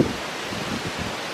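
Wind blows through the woods as a continuous, even, broadband rush with no distinct events, brief and steady.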